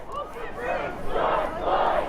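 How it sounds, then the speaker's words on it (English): Protest crowd chanting while marching across the Hennepin Avenue Bridge in Minneapolis, rhythmic massed voices rising in repeated surges, fairly close and continuous. "People there we're seeing holding their hands up and chanting"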